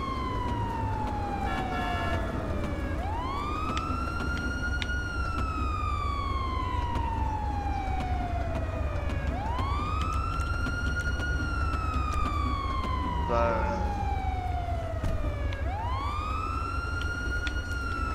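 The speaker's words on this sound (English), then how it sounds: "Hey Tony, you wanna hit your sirens?" Police car siren in GTA V with the LSPDFR mod, a loud wailing tone that sweeps up and slowly falls in repeating cycles about every six seconds over a steady engine rumble.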